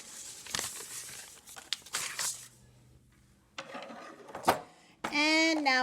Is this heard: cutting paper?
yes